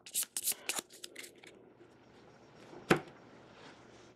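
A playing card is shuffled back into the city deck of the card game Thwarted: several quick papery riffles at the start, then one crisp snap, with a person talking quietly.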